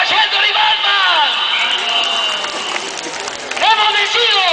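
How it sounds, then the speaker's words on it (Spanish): A live crowd applauds and cheers at a costumed wrestling show in Yajalón, the clapping and shouting dense and loud throughout, with high whistles or cries running over the noise. "¡Aplauso para Shendor y Batman!"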